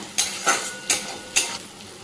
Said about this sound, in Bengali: এবার আদা বাটা দিয়ে আমি একটু ভালো করে কষিয়ে নেব মশলাটা।